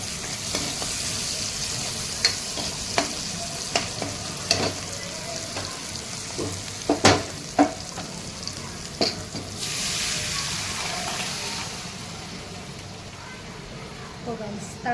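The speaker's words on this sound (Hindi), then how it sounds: "प्याज को अच्छे से भूनने देते हैं।" Steady sizzling of onions frying in a pan, with occasional sharp clicks of stirring and someone talking over it.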